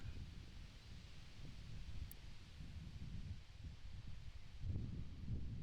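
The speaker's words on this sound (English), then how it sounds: "some of them are struggling with this swirly wind that's whipping around the hill where the basket lies" Gusty wind whips around a hillside disc golf basket during a pro tournament round, a steady low buffeting rumble that swells and drops throughout with no voices.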